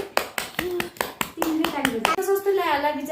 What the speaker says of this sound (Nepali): ताली ताली बजाऊ